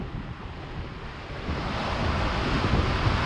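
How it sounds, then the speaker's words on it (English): Winter cruise boat on Lake Coeur d'Alene with its hull slapping the lake water, a broad rushing wash mixed with wind that swells louder partway through, no voices. "The sound that you're hearing in the background is actually the sound of the ship hitting the water"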